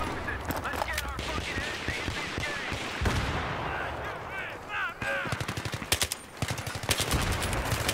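Suppressed PP2000 bursts in a Battlefield match, rapid rattling volleys that stop and start, loud and close, with a voice talking over parts of the fire.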